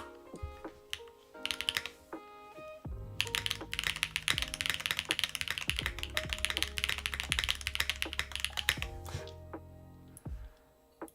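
Rapid mechanical keyboard typing on an HMX-switch Adamas build, loud and close, with bursts of clacky keystrokes starting sparse, then a dense sustained flurry before tapering off, alone without talk.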